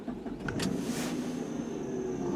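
A 2004 Chrysler Sebring sedan starts up: a short starter crank followed by the engine catching and settling into a steady low idle, close by and without talking.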